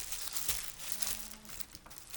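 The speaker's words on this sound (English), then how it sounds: "Gonna crumple up my paper, and then I'm gonna stick it down." Paper is crumpled by hand for a rainforest mural, close crinkly rustling bursts that crackle irregularly, quiet and with no voices.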